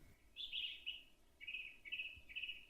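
A Eurasian jay calls in a spring forest at dawn, giving several short, harsh bursts spaced through the moment, fairly faint against a quiet woodland background.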